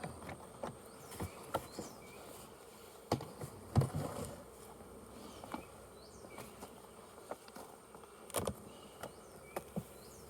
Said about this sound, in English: Oh yeah, look at all the bees in here. Tons of bees.